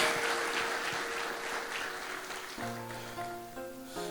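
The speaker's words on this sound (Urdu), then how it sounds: "زوردار تالیاں اس خدا کے لیے." A congregation claps loudly at a church New Year 2023 service, with sustained dense applause that fades as instrumental music comes in near the end.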